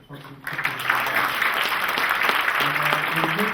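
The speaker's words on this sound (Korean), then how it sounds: "오늘 또 역시 그 아주 훌륭한 멘토를 해주신 우리 멘토분들께 뜨거운 박수를 부탁드리겠습니다." An audience at a business forum bursts into warm applause for the event's mentors, a dense, sustained clapping that starts after a brief pause and continues under a speaking voice.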